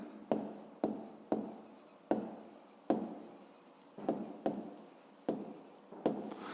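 A pen or pencil writes a fifth-grade math solution by hand, close and quiet, in a series of about a dozen short scratchy strokes with brief pauses between them and no talking.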